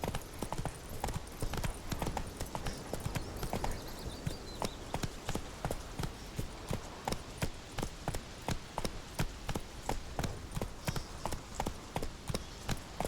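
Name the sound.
horse hooves galloping in video game The Witcher 3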